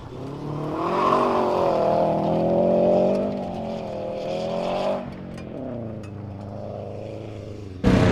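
A Subaru STI rally car engine at a dirt rally event, its strong close engine note rising and falling in a steady throaty drone as it prepares to launch, with no talk over it.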